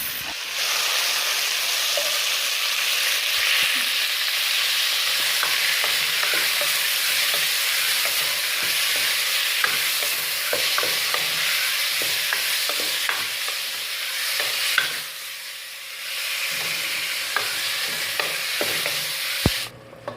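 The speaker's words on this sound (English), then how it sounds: "Yeah, and then after that I'll go ahead and add the beans." Green capsicum and beans fry in a pan for coconut beans, with a loud, continuous sizzle and repeated scraping and clicking as a utensil stirs them throughout.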